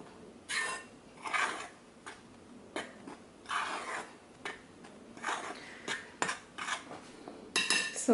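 Dry white wheat flour and salt stirred together in a bowl, a run of close scraping and clinking strokes of spoon on bowl in short bursts, with no talking.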